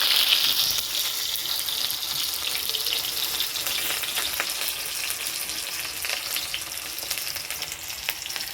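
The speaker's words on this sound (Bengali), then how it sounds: "প্রথমে তেল দিয়ে দেবো, তারপর পেঁয়াজ কুচি," Chopped onion frying in hot oil gives a continuous dense crackling sizzle, close and steady with a slight fade, no one speaking.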